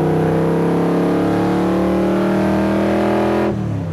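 A replica sports car with straight-pipe exhaust accelerates hard, its loud, close engine note climbing steadily in pitch for several seconds before easing off near the end.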